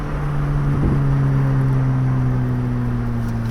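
A Lotus Elise or Mazda Miata sports car on a winding road, its engine droning at a steady, fairly loud pitch with a brief surge early on before holding an even hum, with no voices.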